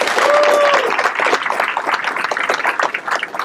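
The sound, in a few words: audience applause for the command team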